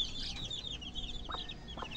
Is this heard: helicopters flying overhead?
no